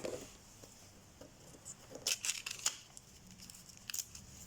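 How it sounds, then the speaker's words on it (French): Quiet, close scraping and slicing strokes of a dulling utility knife cutting paper, a few crisp cuts in short bursts with soft rustling between them. "mon cutter commence déjà à moins bien couper"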